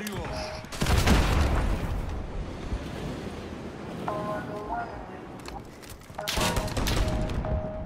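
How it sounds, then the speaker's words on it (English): A rocket launcher blast in Call of Duty: Modern Warfare, two heavy booming roars that rumble and wash out for about a second each, with gunfire-like crackle and quieter game noise between them. "Use a rocket launcher."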